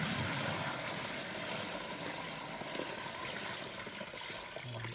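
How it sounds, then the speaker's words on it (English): Water poured steadily into the sump of a garden water feature, a continuous broadband splashing and trickling that holds close and fairly loud for the whole stretch. "So we just want to pour some water into the sump area."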